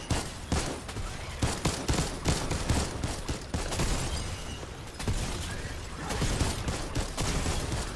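Dense, continuous gunfire in a Fortnite match, rapid bursts and volleys crowding the whole stretch at steady loudness with no voices over it.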